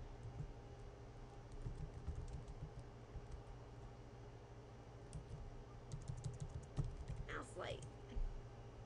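Fingers type on a Mac computer keyboard in a quiet room, giving soft, close, irregular clicks and taps in quick clusters with brief pauses between them.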